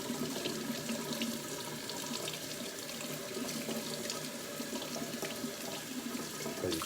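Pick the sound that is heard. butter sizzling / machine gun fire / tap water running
tap water running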